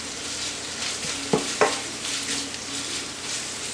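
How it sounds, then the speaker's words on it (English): Egg rolls with Philly cheesesteak filling fry in hot oil, a steady close sizzle with a couple of sharp utensil clicks partway through and no talking. "when I'm frying the egg rolls"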